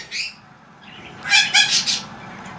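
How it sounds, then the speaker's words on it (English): Pet birds, finches among them, chirp indoors in a short high-pitched flurry, a brief tweet at first, then a louder cluster of rapid chirps near the end. "Just listening to the birds."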